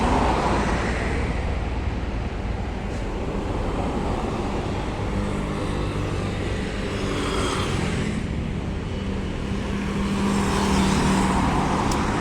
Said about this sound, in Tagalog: medyo traffic doon sa kabila. Ang lalaki ng sasakyan ba naman na sunod-sunod eh.